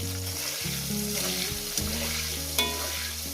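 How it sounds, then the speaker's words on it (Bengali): Sizzling oil frying ingredients for a Bengali fish curry with potatoes, a steady crackling hiss under a low sustained musical backing, with a couple of sharper pops. "ভেজে নেবো"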